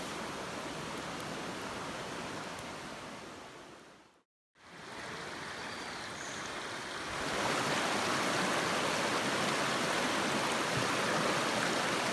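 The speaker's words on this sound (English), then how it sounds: "We were camping on a small peninsula with a stream on 3 sides of our site." A stream flows beside a forest campsite in the Allegheny National Forest, a steady broad rushing wash that cuts out briefly, then returns louder and fuller.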